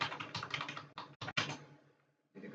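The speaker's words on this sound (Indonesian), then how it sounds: "Langsung aja teman-teman ketikkan JDK download" Quick bursts of typing on a computer keyboard as a search is entered, close clicky keystrokes in short runs separated by brief pauses, then a last short burst.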